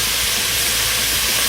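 Garlic and spices sizzling with steak in a pot of southwestern steak chili, a loud, steady, close hiss that holds unbroken throughout.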